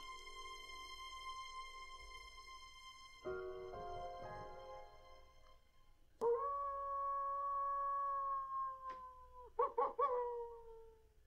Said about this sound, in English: It's one of two wolf howls that is in every soundboard ever.